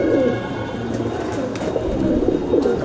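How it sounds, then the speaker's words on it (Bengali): A Madrasi pigeon coos close by, its low, soft, rolling calls repeating steadily with no pauses. "এই আর একটা পায়রা দেখাচ্ছি"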